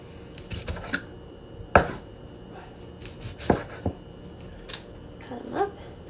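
A knife chopping washed Brussels sprouts on a board, giving a few sharp, irregular cuts spaced out over several seconds, fairly close and moderately loud, with faint background noise between them.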